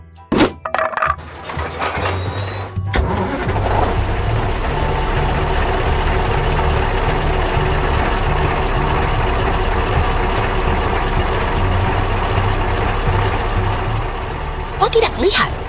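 An animated orange snow blower truck starts on a snowy mountain road: a sharp crack and knock, then a steady, loud, low engine rumble as it drives, with a narrator talking over it.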